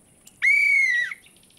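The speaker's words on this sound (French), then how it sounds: "Mon sifflet." A toy whistle in a children's cartoon gives one clear, steady, shrill blow lasting under a second against a quiet background.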